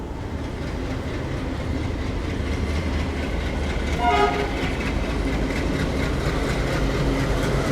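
Kacheguda–Tirupati 7 Hills Express at Guntakal junction at night: a steady, loud rumble of rolling rail wagons throughout, with a brief tonal horn-like blip around the middle.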